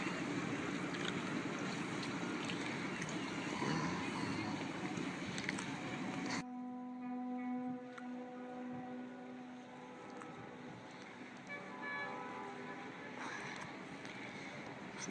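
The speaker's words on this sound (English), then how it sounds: "Listen to all the horns from these boats coming back into harbor." Boat horns sounding in a harbor during an antique classic boat parade by a fisherman's wharf, a long steady tonal blast standing out over wind, water and engine noise, with other boats' horns and engines around.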